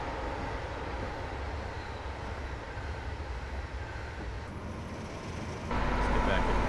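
Steady rumble of a simulated train running along the West Coast Main Line in Train Simulator 2016, a continuous broadband drone that swells louder toward the end with no talking.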